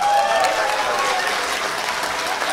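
A comedy club audience claps together in a steady, dense burst of applause throughout, loud and close with a faint crowd murmur, and no one speaks over it.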